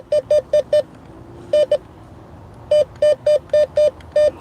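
Bounty Hunter Tracker IV metal detector sounds its target tone during detecting on a road, short identical beeps in quick bursts of four, two, then six, clear and close over faint background noise.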